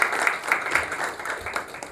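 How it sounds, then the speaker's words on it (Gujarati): Audience applause at a session on entrepreneurship opportunities in the United States, a moderate patter of clapping that swells and fades in a few waves across two seconds, with no speech over it. "ખૂબ ખૂબ તાળીઓથી સ્વાગત કરીએ"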